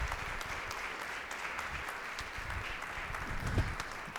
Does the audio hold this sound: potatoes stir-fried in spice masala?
no